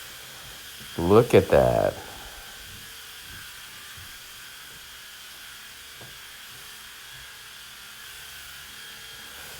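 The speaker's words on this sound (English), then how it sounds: "when your sprayer sprays good, you get an even coat of the solution" A pump sprayer at roughly 125 PSI fires a short, loud hissing burst of cleaning solution lasting about a second, followed by a quiet background. Someone speaks briefly.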